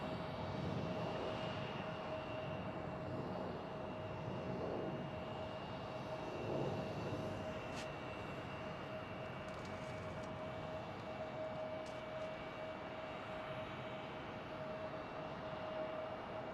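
Airliner taxiing on a runway at George Bush Intercontinental Airport in Houston, a steady broadband engine rumble with a constant whine, continuous and moderately distant, no talk.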